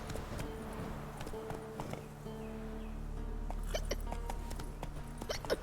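Horse hooves clip-clop steadily in The Witcher video game, a rhythmic trot of clear, close taps over low background game ambience, with brief whinny-like tones near the end.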